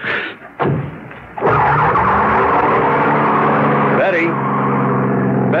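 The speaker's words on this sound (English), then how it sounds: "that was her pulling away in a cloud of dust" A car pulls away with tires skidding, a loud sustained engine roar and squeal that kicks in sharply after a brief rumble and holds steady to the end, with dramatic music underneath.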